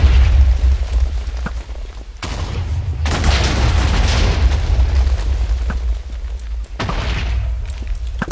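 Repeated booming bursts from fireballs shot by a boss in the Minecraft Bosscraft mod, loud and dense, with bursts of rumble that stop and start.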